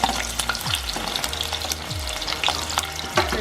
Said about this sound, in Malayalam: അതിലേക്ക് നമുക്ക് പച്ചമുളക്, ഇഞ്ചി, വെളുത്തുള്ളി, ചെറിയ ഉള്ളി ഇത്രയും നമുക്ക് ചേർത്ത് കൊടുക്കാം.